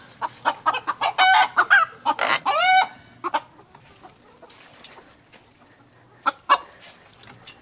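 Chickens cluck in quick bursts, with a rooster's louder squawking calls mixed in, then scattered softer clucks and rustling close by.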